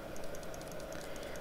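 Rapid, light clicking from a computer mouse or keyboard during digital painting work, a steady run of small close clicks over a constant background hum, with no talking.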